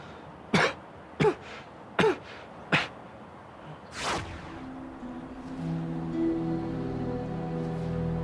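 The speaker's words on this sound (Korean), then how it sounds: "기침이 멈추질 않네." Four sharp, close coughs from a person come at roughly even intervals, followed by a longer throaty exhale before a low steady hum fills the rest.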